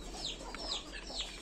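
Chickens cluck softly in a farm yard, with a few short chirpy calls over steady low background noise.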